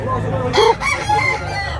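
A large three-year-old rooster crows once, loud and close, amid faint background chatter and low noise.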